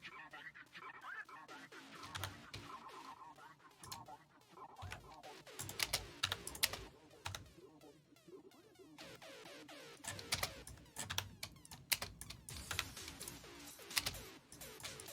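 Computer keyboard keys smashed rapidly during a game, dense clattering bursts of typing close by, with some talk in the background.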